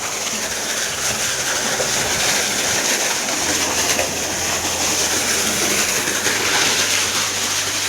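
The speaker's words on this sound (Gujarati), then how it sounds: "આપણે કેનાલમાં પાણી આવે છે." Canal water flows steadily past a village farm field, a continuous broadband rush with a low hum running beneath it, no voices.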